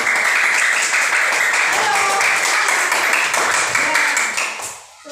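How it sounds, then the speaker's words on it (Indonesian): A primary school classroom breaks into applause for a student group after their presentation in a grade 5 science lesson on food chains. Dense, continuous clapping lasts about five seconds, with a brief spoken word over it, then fades. "beri tepuk tangan untuk kelompok 1"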